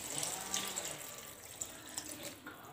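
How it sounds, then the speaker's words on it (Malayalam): Water is poured into a pan of fried masala for chicken curry, a soft, steady splashing and trickle with a few small plops, faint and close, with no talk. "അപ്പോൾ നമ്മളിതിലേക്ക് കുറച്ച് വെള്ളം ഒഴിച്ച് കൊടുക്കാം."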